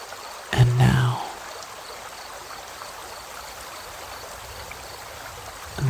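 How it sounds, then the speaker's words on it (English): Running water from a waterfall stream hisses in a steady, even wash, with a brief voice-like sound rising near the start. "the sound of running water fades slightly into the distance"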